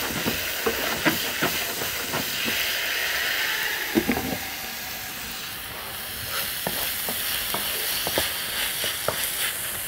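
Persian-style meatballs sautéing in a pan, giving a continuous loud sizzle and hiss with scattered crackles and pops, no talking.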